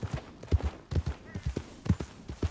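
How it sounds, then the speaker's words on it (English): Horse hooves clip-clop in Red Dead Redemption 2, a steady close-up walking rhythm of paired dull thuds on ground, repeating evenly throughout. "That horse looks like a fine traveling companion."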